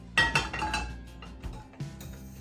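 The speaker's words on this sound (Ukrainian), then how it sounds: "Я поки поставлю грітися сковорідку." Metal clanks and clinks of a frying pan being handled and set on the stove, a few bright knocks followed by lighter rattles.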